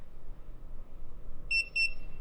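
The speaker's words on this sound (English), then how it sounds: "I just measured it and it beeped red" Two short, high electronic beeps from a battery tester sound close together near the end after a stretch of quiet low hum, signaling a dead battery.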